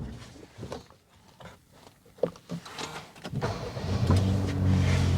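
A Daihatsu Taft 660 cc car starts up after a few quiet interior clicks and knocks, the engine catching and settling into a steady, close idle hum toward the end.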